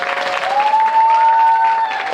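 Audience applauding at a film screening and guest talk at a CGV cinema in Yongsan, a steady burst of clapping from a crowd lasting a couple of seconds with a faint tone running through it.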